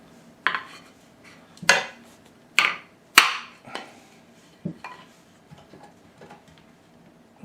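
Metallic knocks and clanks as someone works at freeing the stone on an old, corroded Tormek 2000 wet stone grinder, with about six sharp strikes in the first half and then fainter taps, close and with no talk.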